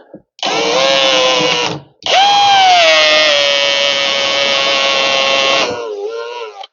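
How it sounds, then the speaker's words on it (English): A power drill pre-drilling holes into a timber gate post, two loud close bursts of whining motor, a short one then a long sustained run that bites into the wood before spinning down. "I can just get my pre-drill and just pre-drill a few holes to see if I hit anything solid"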